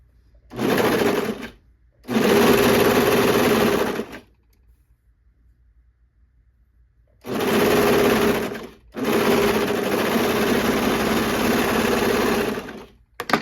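A serger stitches a V cut in fabric in loud, steady whirring bursts, two short runs, a pause, then two longer runs, close up with no talking.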